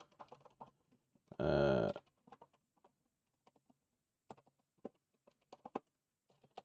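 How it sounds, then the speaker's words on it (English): Quiet, irregular keyboard typing with scattered clicks and taps, briefly interrupted by a louder sustained burst of noise near the start. "I'm typing things."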